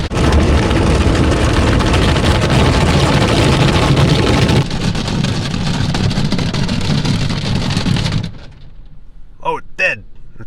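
An automatic car wash batters a car with a heavy, continuous roar that shifts partway through, then cuts out to near quiet with a few brief clunks and squeaks at the end.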